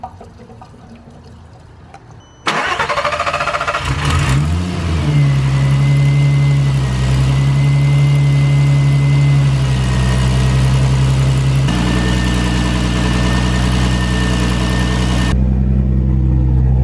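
A turbocharged VR6 car engine fuelled on E85 starts up and settles into a loud, steady run close by, with a sustained low rumble and a faint whine, shifting slightly in pitch partway through before cutting off near the end.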